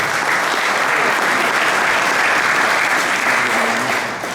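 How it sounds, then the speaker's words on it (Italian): A large crowd gives loud, thick, continuous applause, an unbroken wash of clapping that holds steady before easing slightly at the very end. "facciamo un applauso a Gianni Voltolina"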